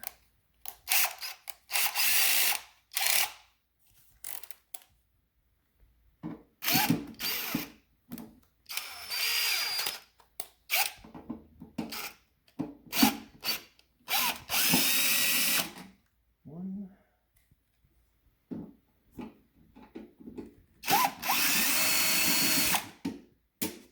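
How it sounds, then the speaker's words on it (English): A cordless screw gun backs fasteners out of a CNC machine carriage in repeated short whirring bursts, each a few seconds long and separated by quiet gaps, heard close and alone. "So I'm going to use my screw gun to remove the easy ones."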